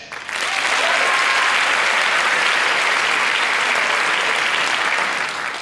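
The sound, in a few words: audience applause at an assembly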